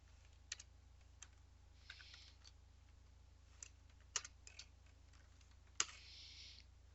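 Sparse, quiet keystrokes on a computer keyboard, isolated clicks and taps spread irregularly over a low steady hum, with no talk.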